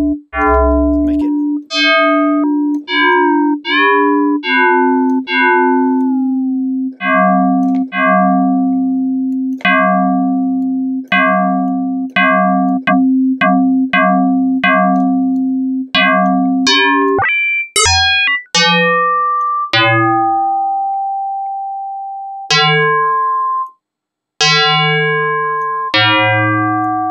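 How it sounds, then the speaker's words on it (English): FM synthesizer playing a sequence of clangy, metallic gong and bell-like tones, each struck note ringing and decaying, some sustained with a low drone underneath, loud and close with no talking. "And we start to get these clangy effects. Gongs and bell sounds"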